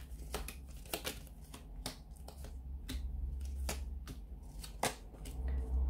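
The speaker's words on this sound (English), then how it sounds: "So we'll give the cards a shuffle." Quiet, close riffling and snapping of tarot cards being shuffled, a rapid series of soft flicks and taps over a low background hum.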